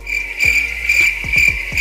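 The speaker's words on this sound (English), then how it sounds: "Cricket." Crickets chirp in a steady, close, high-pitched trill, a comedic silence effect with no voices over it.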